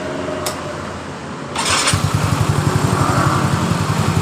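A Yamaha Mio Soul GT fuel-injected scooter motorcycle starts: a short electric starter whir, then the engine catches and settles into a fast, even idle putter, close and loud.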